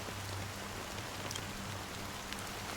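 Steady fine rain falls in the video game Honkai Star Rail, a soft continuous hiss of drizzle with faint scattered drop patter, quiet and even throughout with no voices.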